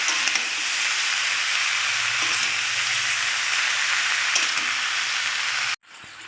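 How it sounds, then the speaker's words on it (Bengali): Steamed cabbage frying with spices in a hot pan, a steady loud sizzle with light stirring scrapes throughout, cutting off abruptly near the end. "দিয়ে ভালো করে এবার আমি কষাবো।"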